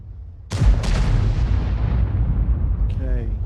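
The Conqueror Gun Carriage artillery piece in a tank video game fires one loud, close boom with a sharp crack, and a long rumbling tail follows. Faint speech comes in near the end.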